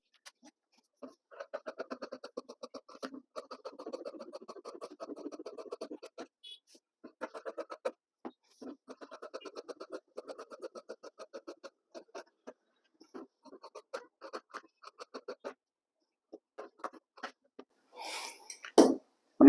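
Scissors cutting cloth for a size-44 pant pattern, close and quiet, in repeated bursts of rapid crisp snips separated by short pauses, with a brief rustle of fabric near the end.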